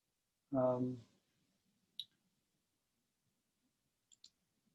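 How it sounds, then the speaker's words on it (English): A computer mouse clicks to advance a presentation slide during a guided mindfulness meditation session: two faint, isolated clicks spaced a couple of seconds apart in near silence, after a brief spoken word. "Just clicking to the next slide."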